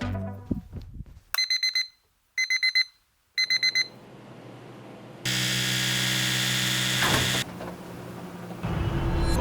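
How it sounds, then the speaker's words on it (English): A bedside alarm clock set for 5:30 rings in three short, evenly spaced bursts of loud electronic beeping, followed by a steady buzzing hum and low room noise. "Alarm is set for 5:30."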